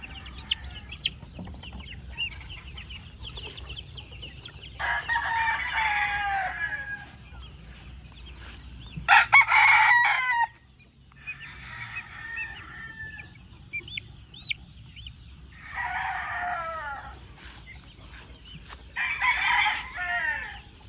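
Brood stag gamefowl crowing in several loud bursts separated by quiet gaps, with softer clucks and background farmyard fowl between the calls.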